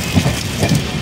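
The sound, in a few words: heavy rain at railway station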